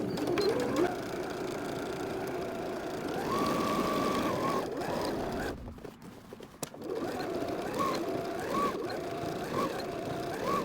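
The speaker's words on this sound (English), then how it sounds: "I stitched backwards and forwards, lengthwise as well as crosswise" A sewing machine stitching through jeans, running steadily back and forth with a rapid mechanical chatter, briefly stopping midway before resuming, close and fairly loud.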